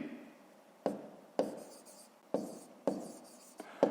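A pen writes out a math sum by hand, a series of close, sharp tapping strokes at a fairly steady pace with soft scratching between them, heard alone.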